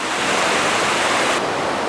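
A mountain river flows beside a camp with a campfire, a steady, loud, unbroken rushing roar of water with no voices.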